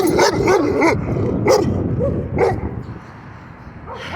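A dog barks close and loud, giving several sharp barks and yips in an uneven rhythm before things settle into quieter background noise.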